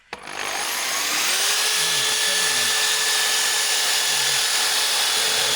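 Power drill spinning a 3D-printed water jet surfboard prototype, a steady loud high whine with a bright tonal hum that starts after a brief click and runs continuously to the end.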